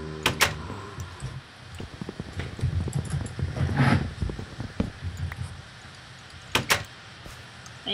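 Doors being placed and opened in the video game Minecraft, sharp repeated clacks at the start and again near the end, with lighter clicking and rumbling game noise between them.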